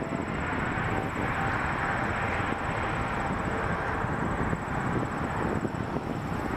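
An Airbus A320 rolls down the runway for takeoff at Toronto Pearson with a loud, steady broadband jet roar. A faint high whine runs underneath, and no voices are heard.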